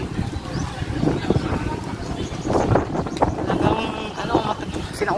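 Wind gusts outside Manila Cathedral, a steady rumbling buffet against the microphone that rises and falls in waves while a person talks over it.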